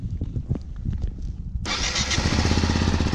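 A Yamaha motorcycle engine cranks and fires up, a short starter whir followed by a sudden jump into a steady, close, loud idle rumble.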